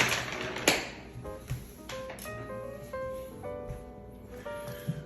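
A kitchen knife cuts and scrapes around the bone of a raw chicken wing while deboning it for oven-baked buffalo wings. Close, faint taps and short scraping strokes come in an irregular rhythm, with no talk over them.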